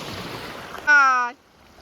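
Sea waves wash in steadily during shrimp net fishing in shallow water, a continuous rushing surf noise that is briefly cut by a loud, tonal shout or call before fading back to low background wash.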